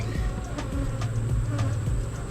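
Honeybees swarm around an opened hive box in a continuous close buzzing drone, with individual bees whizzing past now and then and no voices.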